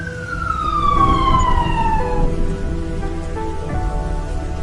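An ambulance siren wails in a falling sweep, loud and near, over steady rain noise; the tone glides downward, fades, and the rain hiss carries on alone.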